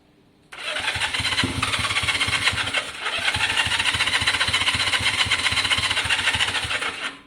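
A Honda CB200 motorcycle with the choke on cranks and catches, its engine starting with a rough, rhythmic chugging that settles into a steady, fairly loud idle, close by with no talk.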